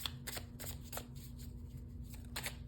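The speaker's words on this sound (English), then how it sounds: "2 more shuffles, please." Tarot cards are shuffled by hand in quick, crisp riffling bursts, close and fairly soft, with steady low room hum underneath and no talking.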